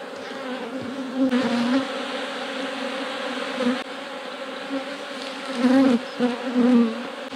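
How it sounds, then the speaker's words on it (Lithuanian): Bees buzz loudly and continuously at an open beehive being worked in spring, a close, dense drone that swells now and then as insects fly near. "Reik dabar privaryt bitėlių."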